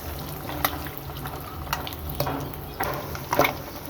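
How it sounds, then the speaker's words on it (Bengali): Turmeric-and-salt coated eggs fry in hot oil, a soft steady hiss broken by scattered crackles and small pops that grow busier toward the end. "এখন ডিমগুলাকে আমি প্রায় একটু ভেজে নেব ব্রাউন কালার করে"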